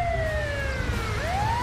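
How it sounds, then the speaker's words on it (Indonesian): In the game GTA 5, a fire truck siren wails in a short burst of steady electronic tones. The pitch slides down, then swoops back up, with a low vehicle rumble beneath and no voices. "Waduh, ada damkar juga nih."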